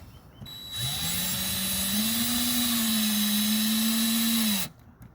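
Power driver running screws into a MaxxAir Deluxe roof fan on a Leisure Travel Van, one sustained close whine rising slightly in pitch, then cutting off.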